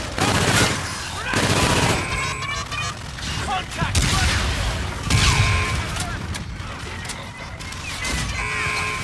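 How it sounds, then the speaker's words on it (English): Suppressing gunfire in Call of Duty: Infinite Warfare, with repeated loud bursts of automatic weapon fire and crashing impacts across the whole stretch, mixed with voices and game effects. "Lay down, suppressing fire!"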